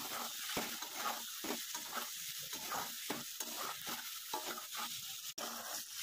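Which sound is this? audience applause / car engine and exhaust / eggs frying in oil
eggs frying in oil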